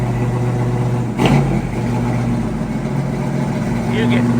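A 1969 Chevrolet Camaro SS engine runs with a steady, deep, loud rumble, with one brief sharper surge early on before it settles back to an even drone.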